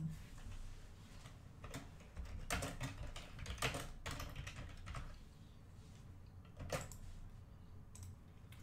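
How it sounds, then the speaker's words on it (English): Typing on a computer keyboard during a live sports card break stream, faint irregular clusters of soft key clicks with short pauses between bursts over a low room hum. "I always get self-conscious when I have the keyboard in front of me because I'm assuming that you guys are all laughing at me type."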